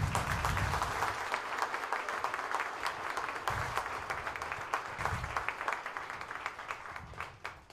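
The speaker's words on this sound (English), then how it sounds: "would you please stand up and get a well-deserved round of applause?" A crowd at a cowboy hall of fame induction ceremony breaks into a long, even round of applause, many hands clapping at moderate distance with a faint crowd murmur, tapering slightly near the end.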